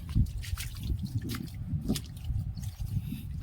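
Rainwater runs down from higher ground into a flooded farm field after a heavy downpour, with broken embankments. It makes a steady, close trickling and gurgling flow, with small splashes and dribbles throughout.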